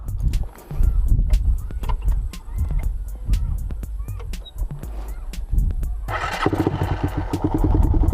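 A motorcycle engine idles steadily after a new spark plug is fitted, with a continuous low rumble throughout and a rise in revs near the end, while people talk over it.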